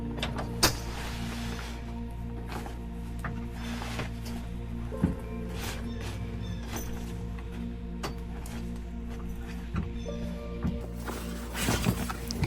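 Metal U-bar on a Topoak Stellar (Galaxy 2.0) roof top tent being flipped up to support the rear bump-out, with a few sharp clanks and creaks over a steady low hum, close by.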